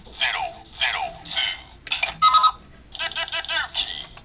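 A Kamen Rider Decade K-Touch toy in phone mode plays a run of electronic dialing tones and short chirping beeps, several bursts in quick succession with brief gaps, clear and close with nothing else over them.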